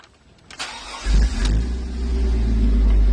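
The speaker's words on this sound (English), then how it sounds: "I'm going to go ahead and try and start the truck" A truck engine cranks with a brief starter whir, then catches and roars into a loud, steady, low rumbling idle, close by and with no talk.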